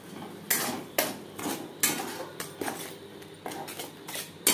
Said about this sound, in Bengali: পেঁয়াজের সাথে মশলা বেশ ভালো করে মিক্সড করে দেবো